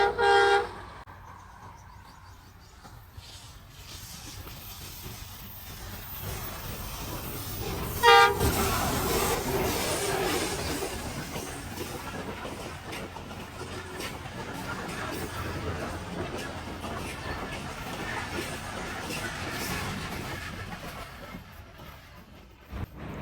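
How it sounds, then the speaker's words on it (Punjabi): A train comes in near Turkey railway station in Pakistan, sounding one short horn blast early on, then a long, steady rumble of passing wagons that swells and fades over about twenty seconds. "ਇਹ ਇੱਕ ਟ੍ਰੇਨ ਆ ਗਈ ਹੈ ਜਨਾਬ"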